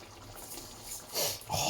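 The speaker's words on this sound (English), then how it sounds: "It's bubbling away nicely now." Beef stock bubbles in a pan with soft, wet simmering pops and trickling liquid, faint and close, swelling louder toward the end.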